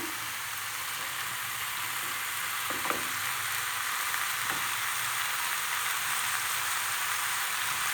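A steady, loud sizzle of mushrooms frying in olive oil over high heat, with a couple of soft clinks or stirs partway through.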